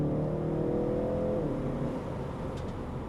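A BMW G21 330e plug-in hybrid with a Stage 2 tune accelerating, a close, steady engine drone rising in pitch through a gear, whirring and loud throughout with no talk.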